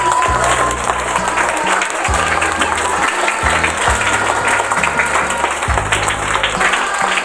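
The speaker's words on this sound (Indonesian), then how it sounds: "Tepuk tangan yang meriah." Lively applause from an assembled crowd at an outdoor school ceremony for National Teachers' Day, a dense steady clapping that fills the whole stretch, with low rumbling engine-like noise and bursts of background sound underneath.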